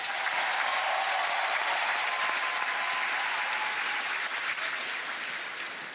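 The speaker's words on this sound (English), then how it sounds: "The crowd yelling Andy." A large convention crowd at the Democratic National Convention keeps up dense, loud applause and cheering. The sound stays steady for several seconds and eases off slightly at the end, with no clear talk above it.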